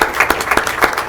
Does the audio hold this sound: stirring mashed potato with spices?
no